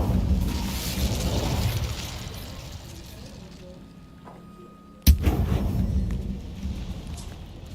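Incendio fire spell cast in Hogwarts Legacy, a roaring rumble over steady game ambience with one sharp burst about two-thirds through, followed by renewed loud crackling rumble.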